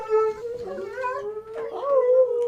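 Dogs howl in a long, wavering, close-up cry that rises and falls with yips and whimpering breaks, loud and alone for the whole stretch.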